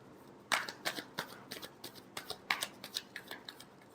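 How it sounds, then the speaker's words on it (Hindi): Tarot cards being shuffled in a quiet room, a run of crisp riffling bursts and soft card slaps repeating steadily for about three seconds, close and moderately loud with no talking. "Last shuffle."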